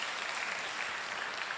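A church congregation clapping together in worship, a brief dense wash of applause at even strength with no voices heard.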